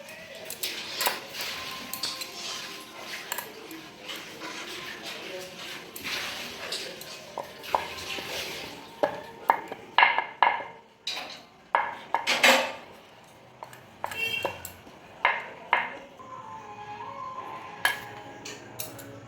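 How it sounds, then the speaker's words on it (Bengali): Stuffed hing kachori dough balls rolled out one at a time with a rolling pin, giving soft repeated knocks and light clinks of kitchen utensils over a low hum, with a few sharper taps partway through. "এবার আমি কচুরিগুলোকে বেলে নিচ্ছি একটা একটা করে"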